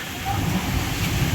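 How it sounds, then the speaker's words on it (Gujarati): A dense, steady wash of heavy rain, loud and close, with a low rumbling undertone. "વધી ગયો વરસાદ"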